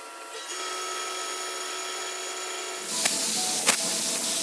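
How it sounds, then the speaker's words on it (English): A spray gun lays Ocean Mist Metallic base coat onto a Nissan 240SX coupe being restored, giving a steady close hiss with a high whine, then a rougher airy rush broken by a couple of sharp clicks. "Here I'm spraying the Ocean Mist Metallic base coat."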